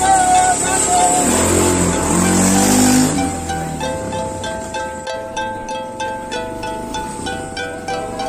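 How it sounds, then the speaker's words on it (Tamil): A quad bike engine runs on a beach, roaring loudly at first, then dropping to a rough, pulsing idle with a rhythmic chug. "இப்போ நம்ம பார்த்துட்டு இருக்க வண்டி பார்த்தீங்கன்னா பீச்சில் ஓட்டுற பகி"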